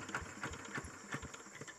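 Yanmar hand tractor engine idling low after the throttle is turned down, a steady quiet chugging with regular pulses and no talk.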